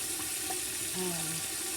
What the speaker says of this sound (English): right now I'm just going to fill my canner with water to the 2-inch mark